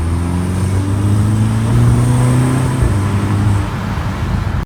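A Volkswagen Golf GTI with a modified exhaust runs close by, a loud, deep, steady engine drone with a slight swell midway, heard alone without any voices.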